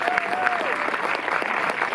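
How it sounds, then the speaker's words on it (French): Cinema audience applauding the film distributors after a screening, a dense continuous clapping from a nearby crowd, with a faint voice briefly over it. "il faut les applaudir vachement plus fort que ça"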